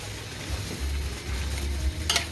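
Boiled ingredients being stir-fried in a pan produce a close, steady sizzle with low rumbling stirring and a brief clatter near the end; no voices.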